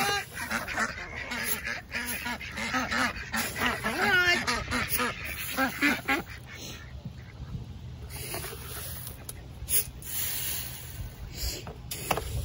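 Hungry ducks quack excitedly while being fed, with loud, busy calls filling the first half and then thinning to scattered quacks, over light outdoor rumble and a brief spoken voice.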